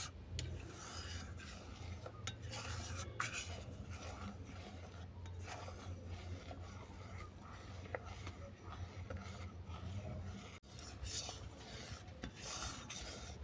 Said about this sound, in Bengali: দুধ আর কুমড়োটা এইভাবে নেড়ে চেড়ে আমি আরও ছোটো করে নেব।